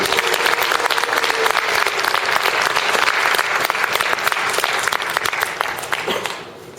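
A Won Buddhist assembly gives sustained, loud applause for the education department and temple teachers, a thick roar of many clapping hands that fades near the end.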